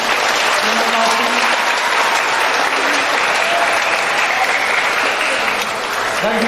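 Christmas morning Mass congregation in a Catholic parish church clapping loudly and continuously, a thick wash of hands with a few raised voices mixed in.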